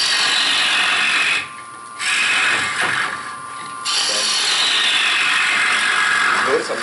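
A gouge with a 40/40 grind cuts a V into a wooden bowl turning on a lathe, a loud, steady, close hissing rasp that drops away briefly twice as the tool lifts off.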